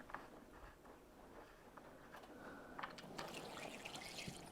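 Hot engine oil draining from a BMW S 1000 RR superbike into a drain can, a quiet continuous trickle and pour with faint splashes, steady and close.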